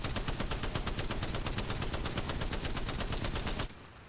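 Spitfire light machine gun from Apex Legends fitted with gold attachments, firing one sustained, loud, evenly spaced automatic burst before cutting off abruptly near the end.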